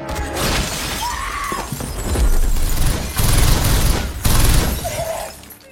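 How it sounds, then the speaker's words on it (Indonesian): Gunfire in an action film about a hired sniper hunting a mining mafia; several sharp, heavy bursts cut through a dense, loud soundtrack with crashing impacts. "sedetik kemudian terjadilah tembakan"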